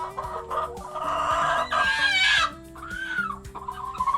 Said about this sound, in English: Them hens are still sitting piled up on top of each other right there.